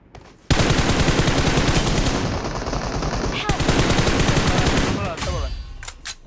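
Rapid automatic gunfire in the mobile battle-royale game PUBG Mobile rattles loud and sustained in long volleys, with a short break in the middle and a brief tapering burst at the end.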